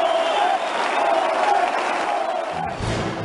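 A big crowd at a Jeremy Corbyn rally in Liverpool cheers and shouts in a steady, dense roar that holds at full strength throughout, dipping slightly near the end.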